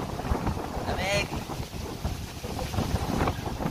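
Strong, gusty outdoor wind on a rainy day, buffeting and roaring loudly against the microphone throughout, with people's voices mixed in.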